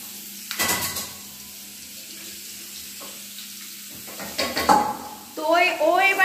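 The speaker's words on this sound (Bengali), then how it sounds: "ম্যাডাম, আপনার আলুগুলো পুড়ে যাবে তো? আলুগুলো পুড়িয়েই যাচ্ছে।" Potatoes frying in a home kitchen pan, with a steady low sizzle and intermittent scraping stir strokes that grow louder near the end, alongside some running-water splashing; no talk.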